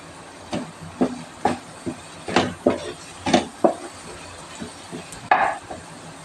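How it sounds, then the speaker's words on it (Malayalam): Crushed dried red chillies are sautéed in a pan, close and fairly loud, with sharp bursts of sizzling and hissing and scraping stirs coming in an irregular rhythm. "നമ്മൾ ചതച്ച് വെച്ചിരിക്കുന്ന വറ്റൽമുളകില്ലേ, ചുവന്ന മുളക്, അതും കൂടെ ഇട്ട് കൊടുക്കാം. നമുക്ക് നന്നായിട്ട് വഴറ്റണം."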